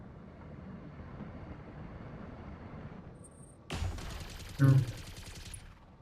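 Mech weapons firing in the video game BattleTech: a faint steady rumble, then a sudden loud burst of gunfire with a sharp impact about a second later, fading into noisy rumble.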